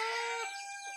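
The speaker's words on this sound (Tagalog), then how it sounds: "Humuhuni na naman to mga ka-hunter, kaso lang maliit na yung huni niya." A captured wild bird gives a soft, brief call, a short thin chirping phrase close by in a quiet setting.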